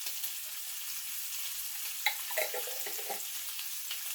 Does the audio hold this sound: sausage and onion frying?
yes